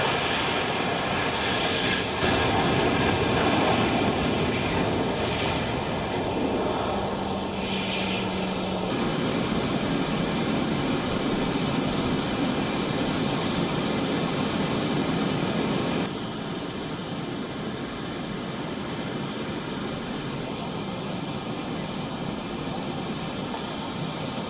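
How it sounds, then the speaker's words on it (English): A US Air Force Boeing C-40C jet on the ground at an airport, giving a loud, steady engine roar that holds for the whole stretch and shifts in tone partway through, with no talking. "She came on board a U.S. military plane. This is a Boeing C-40C."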